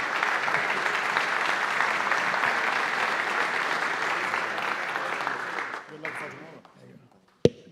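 Applause from an awards-ceremony crowd at a basketball league event greets a player, loud and steady for about six seconds before fading into scattered claps and a final sharp sound.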